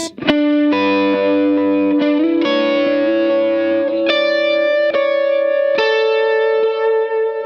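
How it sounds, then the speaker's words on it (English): Guitar run through a transistor tape delay modeled on the Echoplex in a Line 6 POD Go: sustained, slightly distorted notes and chords played at a steady pace, each trailed by warm repeating echoes that smear into a reverb-like wash, loud and alone. "The transistor tape is modeled after the Echoplex, which has this very nice warmth that hugs the notes to make it sound like pseudo-reverb."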